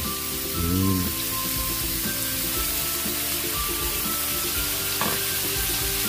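Chicken afritada sautéing in a pan, a steady close sizzle and crackle of frying with occasional stirring clinks, continuous and fairly loud throughout.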